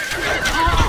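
Horse neighing in the medieval strategy game Stronghold Crusader: one loud, close whinny lasting about a second, standing alone without talk.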